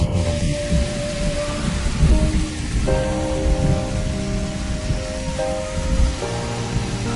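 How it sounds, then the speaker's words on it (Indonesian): Heavy rain pours steadily with a dense, roaring hiss and rumbling thunder-like low end throughout, loud and continuous with no voices. "Kan sudah kubilang, pasti hujan lebat."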